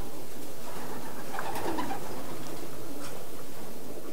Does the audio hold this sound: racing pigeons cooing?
yes